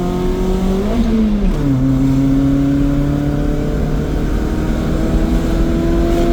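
A modified Maruti Zen with upsized tyres pulls hard in second gear, its engine drone rising steadily in pitch after a brief dip at the shift, loud and close throughout.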